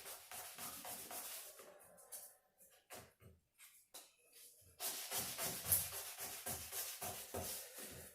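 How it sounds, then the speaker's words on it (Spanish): Hard sandpaper rubs against a piece of Mapuche-style jewelry in short scratchy strokes, quiet and close, with a brief pause in the middle before the sanding resumes. "cosas así como usar una lija más dura"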